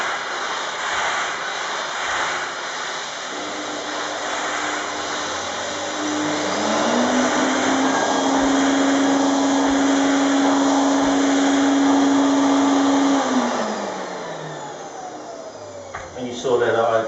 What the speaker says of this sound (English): I had the steam on and the vacuum, so I was steaming and picking up at the same time